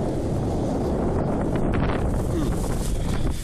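Outdoor gusts buffet the microphone with a loud, rumbling roar that swells and fades across the whole stretch.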